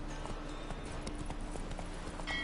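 Steady clip-clop of horse hooves from The Witcher 3, a continuous rhythmic trot heard over game ambience.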